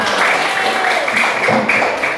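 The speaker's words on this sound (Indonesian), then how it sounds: "Oke, tepuk tangan kita semua" Children clapping their hands together in a classroom, a dense, steady wash of claps throughout with faint voices mixed in.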